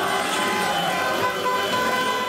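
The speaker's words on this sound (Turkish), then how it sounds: "Belçika'nın başkenti Brüksel'de Türkler araçlarıyla korna çalarak sokaklarda tur attı." Car horns honking as drivers tour the streets of Brussels, a dense mix of overlapping horns and traffic noise, loud and continuous with a crowded street ambience.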